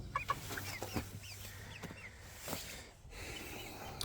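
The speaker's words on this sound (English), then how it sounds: "We got 3 roosters and 3 hens down here." Cornish Cross chickens, roosters and hens together, cluck softly and sporadically, with scattered short calls over quiet background noise.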